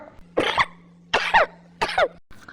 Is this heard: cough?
yes